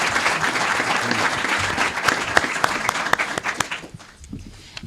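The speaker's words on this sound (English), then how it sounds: "please give them a round of applause." Audience clapping for mayoral candidates at a live debate, a burst of applause from the crowd with individual claps standing out that tapers off and fades near the end.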